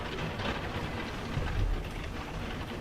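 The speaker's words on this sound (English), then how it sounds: "that rain is really starting to come down now" Heavy rain pours down in a steady, dense hiss that stays even throughout, with a slight swell midway and no voices.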